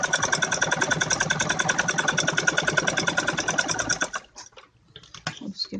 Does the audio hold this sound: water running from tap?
no